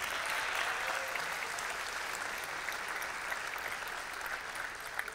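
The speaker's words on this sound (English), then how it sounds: "so one more round of applause, please." Applause at a gala awards ceremony for company of the year, a steady wash of many hands clapping throughout, even and sustained at moderate distance with no speech.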